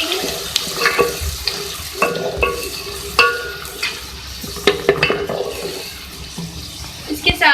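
Onions frying in oil in a pan sizzle close by, mixed with scraping stirs and sharp clinks of a utensil against cookware, with faint background noise and no talking.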